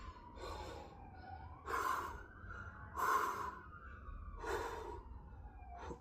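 Slow, audible breaths rise and fall in a steady rhythm while someone holds a plank during a morning exercise routine, close and fairly soft, with a faint wavering tone in the background.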